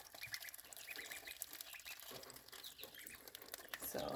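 Baby ducks peeping and quacking in a stall, a busy scatter of faint high chirps and small quacks close by, overlapping and continuous at low volume.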